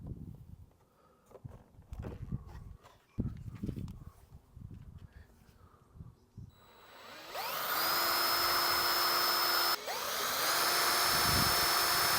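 Scattered knocks and shuffling give way to a loud, steady whine of a power drill running continuously in a Fiat Ducato cab during blind installation, briefly dipping once before resuming.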